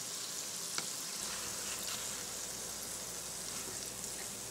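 Homemade donuts frying in oil over medium heat, a soft continuous bubbling sizzle with faint crackles, fairly quiet and steady with no talk.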